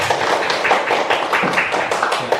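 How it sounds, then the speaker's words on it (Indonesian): Classroom group of students applauding a presenting group in an Indonesian teaching-practice lesson, dense steady clapping from many hands throughout, fairly close and continuous. "kita berikan tepuk tangan yang meriah"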